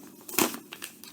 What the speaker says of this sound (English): you're going to fold it straight down